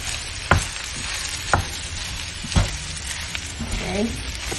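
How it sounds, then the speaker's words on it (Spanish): Bacon and chicken sizzle steadily in a pan for Venezuelan-style Chinese rice, with a few sharp scrapes and knocks of a utensil stirring the meat, and faint speech underneath. "Voy a revolver un poquito para dar un poco la lenta"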